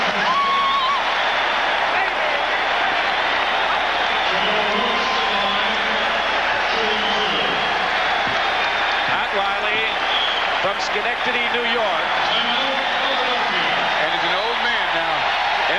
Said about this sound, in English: some of the fans have already begun celebrating